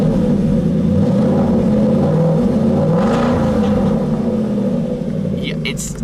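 Aston Martin GT8 engine revving up and settling in a steady loud rumble, rising and falling in pitch, close and continuous, with faint voices at moments.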